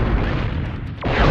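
A cannon fires at the Sorceress in the Spyro 3: Year of the Dragon video game, a loud, deep boom that rumbles on for over a second.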